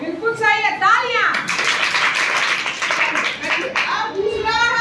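Children talk excitedly, then a burst of brisk group clapping rises in the middle before voices return.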